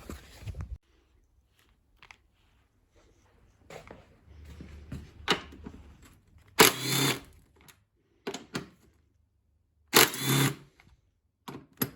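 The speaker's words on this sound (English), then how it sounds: "maybe just take these two screws out and lift the tank to spy inside" Screws being removed from the side plastics of a Kawasaki Versys 650 motorcycle, heard as close scattered clicks, ratcheting and sharp clatters separated by quiet gaps.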